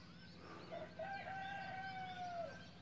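A rooster crows one long, drawn-out call outdoors amid the sounds of nature, loud and fairly close, with a faint hen's cluck and bird chirps blending into a steady background.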